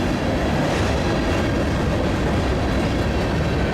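CN freight train L571 rolls past with a CNW covered hopper among its cars, a loud continuous rumble and clatter of wheels close by throughout, with no voices.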